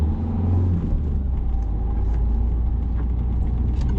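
Car pulling away after shifting into first gear at a roundabout, heard from inside as a loud, steady low engine rumble with no talk.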